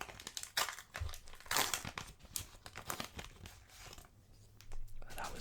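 Close, crisp crinkling and tearing of a World Cup trading card pack's foil wrapper, ripped open by hand in several quick bursts with short pauses between, with no talking.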